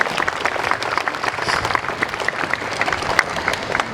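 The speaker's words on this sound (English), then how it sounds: "I'd like to give her a really big round of applause to my 3 executive team, please" An audience at a charity closing ceremony gives loud, sustained applause for the executive team, with dense clapping throughout and a bit of crowd noise beneath.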